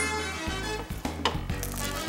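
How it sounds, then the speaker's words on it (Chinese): A large vegetarian bun is pan-fried whole over high heat, with soft sizzling broken by clinks and scrapes of a utensil against the pan, quiet and close. "然后呢，我们先来煎它"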